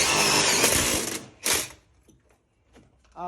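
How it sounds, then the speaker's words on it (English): A power drill whirs and grinds through wood behind broken brick in a long loud burst, pauses briefly, then bites again in a shorter burst before trailing off into quiet clatter. "He's drilling through the wood."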